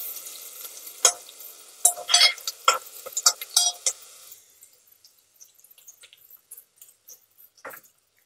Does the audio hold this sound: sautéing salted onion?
yes